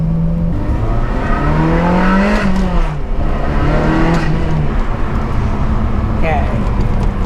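A Ferrari 360 accelerates hard at high RPM, its engine note climbing steeply through the gears with brief dips at each shift, loud and close, heard from inside the car.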